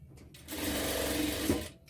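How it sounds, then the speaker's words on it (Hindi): A sewing machine stitches pant fabric in one short, close run of steady mechanical whirring. The run starts and stops abruptly. "अब इसके बाद इसको आपको सिलाई करते जाना है"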